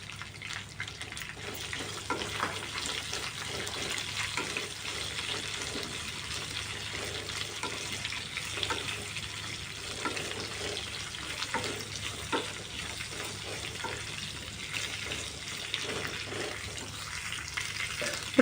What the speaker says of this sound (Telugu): ఇప్పుడు సన్నగా కట్ చేసుకున్న ఆనియన్స్ కూడా వేసేసుకుందాము.